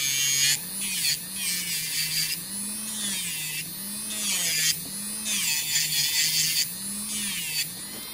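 A Medenia New Touch electric nail drill (e-file) whirs at a steady high speed while it files gel nails, its motor pitch wavering slightly as harsh grinding bursts start and stop against the nail, close and fairly loud.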